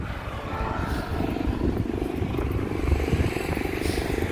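Helicopters circling overhead above a street intersection, a continuous low rotor rumble and drone that swells slightly midway, heard from the ground amid faint traffic noise.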